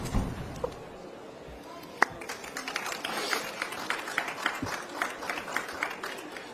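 Audience applause at a conference panel on nature and biodiversity, a dense, moderately loud patter of clapping hands that continues steadily after a brief opening sound.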